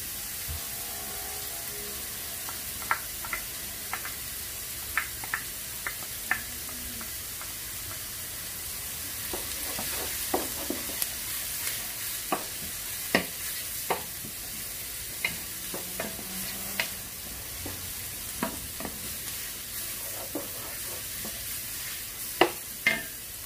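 Garlic frying in a pan for Guatemalan chiles rellenos gives a steady soft sizzle with scattered sharp pops and crackles throughout, plus occasional stirring scrapes, fairly quiet and close.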